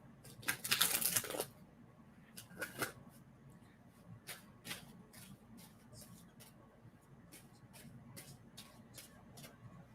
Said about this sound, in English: And I'm going to stop shuffling on that.